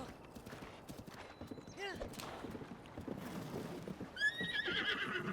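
A horse whinnies and its hooves clip-clop in Breath of the Wild, with a sharp neigh near the middle and another toward the end, under faint game ambience and occasional talk.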